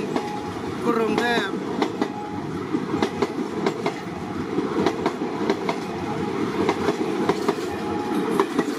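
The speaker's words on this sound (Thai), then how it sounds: "ก็มีรถไฟผ่านเข้ามาก่อน1ขบวน" A Thai passenger train rumbles past close by at a station, with rhythmic clickety-clack of wheels over rail joints and a brief metallic squeal near the start.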